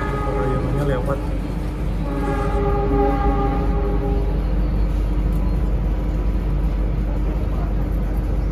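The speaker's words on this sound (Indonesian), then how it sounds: "Kita nikmati perjalanan menggunakan kereta api Cikuray" Cikuray passenger train rolling along the rails, a steady loud rumble with horn-like tonal bands early on, heard from aboard the train with voices mixed in.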